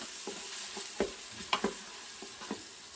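Spices sautéing in hot oil inside an Instant Pot while being stirred: a soft steady sizzle with a few sharp scraping clicks of the spoon, close by, with no talking.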